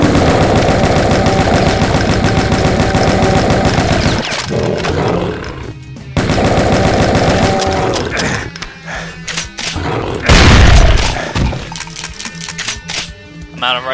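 Rapid automatic rifle fire in the Brutal Doom video game, loud close bursts that break off and resume, mixed with other harsh game noise.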